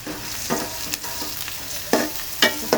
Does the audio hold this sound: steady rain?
no